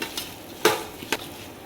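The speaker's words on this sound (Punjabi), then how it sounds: "ਘਿਓ ਪਾ ਕੇ ਆਪਾਂ ਮਿਕਸ ਕਰ ਦਿੰਦੇ ਆ ਚਾਵਲ ਦੇ ਅੰਦਰ" Desi ghee being stirred into rice in a pot, with a few short scraping strokes of a spoon against the vessel, close and fairly quiet.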